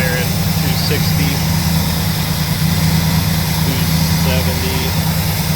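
A 1977 Lincoln Mark V V8 idling after a used radiator install, a loud, steady low rumble close by, with a voice speaking faintly over it.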